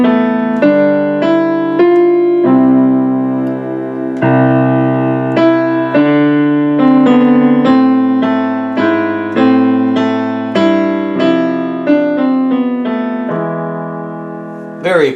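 An orchestra plays the slow movement of a Rodrigo guitar concerto: a gentle, sustained melodic line moving note by note over soft held harmonies, steady and fairly full, with no talking.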